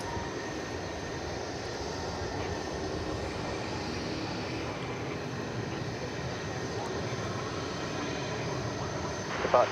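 A Boeing 747 airliner taking off at DFW Airport at night, a steady broadband jet roar that stays constant and fairly distant throughout, with faint voices underneath.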